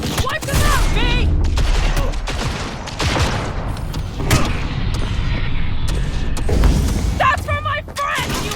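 Rapid turret gunfire in the Cyberpunk 2077 video game, a loud sustained fusillade with booms running almost the whole time, while voices shout over the shooting.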